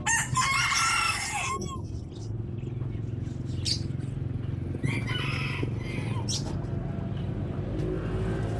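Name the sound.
chickens and roosters crowing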